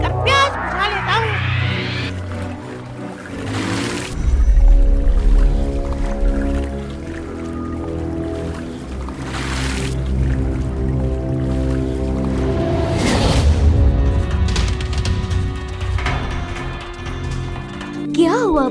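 A cartoon monkey drinks lake water in an animated sound effect, with wet slurping, gulping and splashing over steady tonal background music, loud and continuous for almost twenty seconds.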